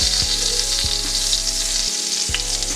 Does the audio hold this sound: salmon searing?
yes